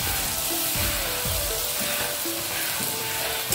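Mustard paste and green chili paste sizzle steadily while frying in a pan for fish mustard curry, a continuous close crackling hiss with occasional faint stirring scrapes and no talk.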